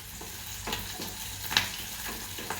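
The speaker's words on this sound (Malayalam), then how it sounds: "നമുക്ക് കറിവേപ്പില ഇട്ട് കൊടുക്കാം" Curry leaves sizzle among sautéed onions in a hot pan, giving a continuous soft frying hiss. A few brief stirring scrapes pop out of it, and the whole sound is moderately quiet and close.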